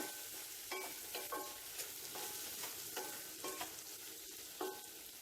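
Avocado pickle with chili, fenugreek and asafoetida stirred in a pan on a low flame, a soft sizzle with repeated scraping strokes at an irregular pace.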